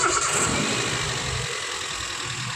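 A 2012 Toyota Etios Liva G petrol car with its 16-valve engine under an open bonnet cranks and fires up, then settles into a steady, close idle.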